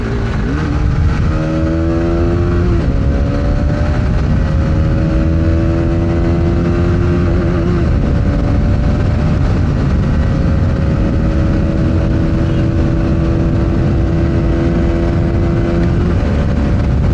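A Bajaj Pulsar motorcycle with a changed sprocket accelerates hard through its gears on a rough road, the engine note climbing repeatedly and dropping at each shift. It stays loud and close throughout with no talking.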